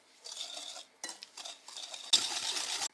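Sugar and butter stirred in a mixing bowl with a utensil, scraping, swishing strokes in several bursts, the last one longer and louder, close and without talk.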